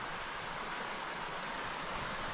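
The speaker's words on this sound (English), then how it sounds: "But there's a nice creek." Creek water flowing steadily through a forest at George Washington National Forest, a constant broadband rush heard close and alone for the whole stretch with no talk.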